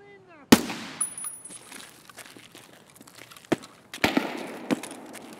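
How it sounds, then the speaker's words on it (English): Gunfire in the video game Escape from Tarkov as a sniper scav shoots, sharp isolated cracks with a few rattling follow-up shots spread over several seconds against a quiet background. "He's shooting at somebody."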